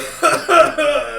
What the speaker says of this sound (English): go into a coughing fit